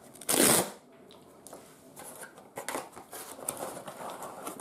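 A Gloria subscription box opened up close, starting with a loud sharp rip of packaging, then softer papery rustling and crinkling as the contents are handled.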